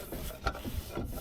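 Brake shoes rubbing inside the drum of a Mercedes 410D van being adjusted, a steady close scraping rub that swells and fades in slow cycles over a second, with no talking.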